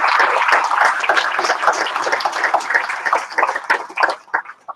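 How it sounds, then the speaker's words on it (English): Audience at a medical school Match Day ceremony applauding faculty mentors and advisors, a dense burst of many hands clapping that thins into scattered, uneven claps toward the end. "Please join me in also giving them a nice round of applause for their dedication."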